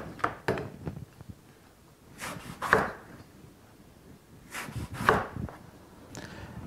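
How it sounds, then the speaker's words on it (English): Knife slicing eggplants into rounds on a board, a series of distinct chops in small clusters, close and moderately quiet, with no talking. "I'm going to do is just cut these eggplants into rounds"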